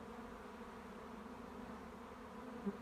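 A steady, low buzz of honeybees at a hive entrance hums continuously, many bees droning together close by.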